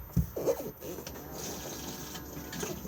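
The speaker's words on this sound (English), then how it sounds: "the blue button to flush" A cassette toilet in a Bailey Unicorn Seville caravan flushes with a quick clunk, then water rushes and swirls steadily and close by, while a voice murmurs at the start.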